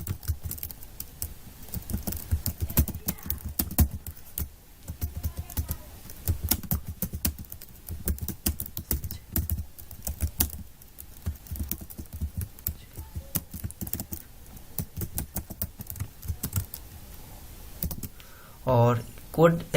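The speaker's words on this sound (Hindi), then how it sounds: "यहाँ पे आप कोड को टाइप कर सकते हैं" Rapid, irregular key clicks of someone typing Python code on a computer keyboard on a Windows PC, steady and close for most of the stretch, with a brief burst of voice near the end.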